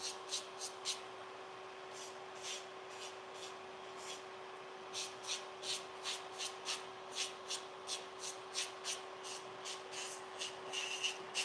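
An arbor band on a metal-bit nail drill files fingernails in short, rapid scraping bursts. A steady high motor whine runs underneath, with no talking.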